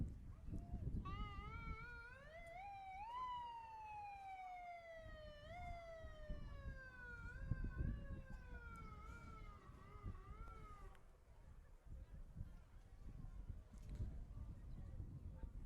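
Police car sirens wail from about a block away during a street parade, the rising and falling tone sweeping for several seconds before fading, over a rumbling street and wind noise.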